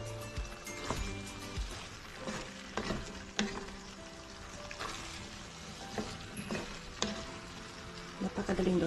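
Sliced bitter gourd (ampalaya) fries in a pan with a close sizzle, broken by repeated scrapes and clatters from stirring that come in uneven bursts; no one speaks.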